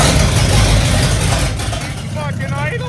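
A vehicle engine idles with a steady, heavy low rumble that carries on unbroken, while a voice talks over it toward the end.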